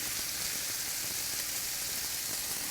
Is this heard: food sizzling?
yes